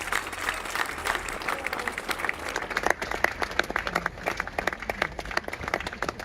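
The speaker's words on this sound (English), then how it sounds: "there was a gentle ripple of applause that went through that crowd" A crowd outside the gates of Holyrood Palace in Edinburgh breaks into gentle, fairly loud applause, with individual claps standing out in an uneven ripple that carries on throughout.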